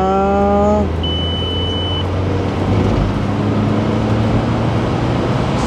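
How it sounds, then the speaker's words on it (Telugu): Skoda Octavia vRS (2001-2005) driving, its steady engine and road rumble loud and continuous throughout, with a few brief tonal beeps early on and no talking. "జస్ట్ చూసిర్రా ఎట్లా పోతుందో బండి"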